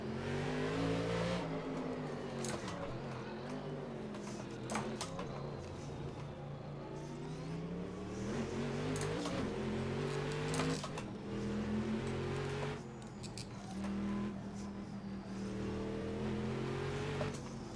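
A race car engine in the game Assetto Corsa revs loudly and continuously, rising and falling in pitch through gear changes, with no talk over it.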